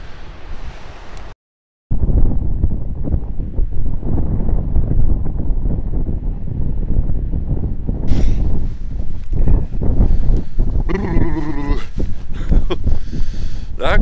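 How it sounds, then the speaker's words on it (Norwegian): A cold, raw wind buffets the microphone on a mountain fishing trip at about two degrees, a loud steady roar that cuts out briefly near the start, with a person talking through it. "Så det er sånn ordentlig, ordentlig sur og guffen vind."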